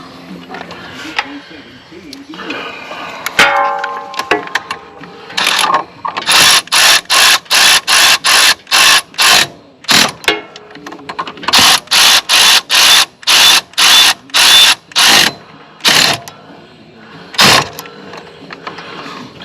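Bolts on a 52-inch Wright Stander mower are ratcheted in to press the hydro belt idler pulley off its center hub, a fast series of loud, evenly spaced clicking bursts with brief pauses, after someone speaks briefly.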